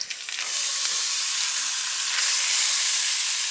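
Ground beef hits a hot pan and settles into a loud, steady hiss of sizzling and frying, close up, with a few scrapes at the start and no voices.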